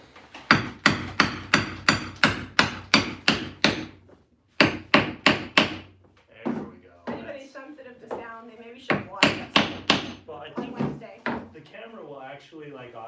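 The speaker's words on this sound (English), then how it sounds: "All right, I got a hammer again." Hammer blows strike a wooden cabinet during a makeover: a steady run of sharp, loud whacks, a brief pause, then more strikes mixed with a person talking between and over the hits.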